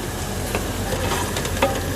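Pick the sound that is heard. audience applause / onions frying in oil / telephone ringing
onions frying in oil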